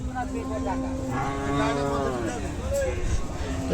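A cow moos in a long, low drawn-out call, followed by a shorter moo, over a murmur of background voices at a cattle market.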